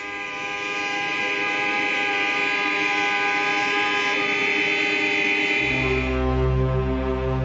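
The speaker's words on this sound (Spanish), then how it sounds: "Después protestan a bocinazos." Car horns blare in protest on a West Berlin street, one long, loud, sustained tone held steadily until a deeper second horn joins near the end.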